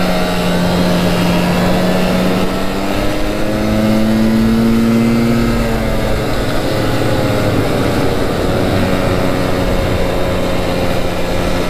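A liquid-cooled 400cc two-stroke 4x4 runs steadily in four-wheel drive, its engine droning loud and close with a shifting, wavering pitch that rises and falls across the ride, no voices over it.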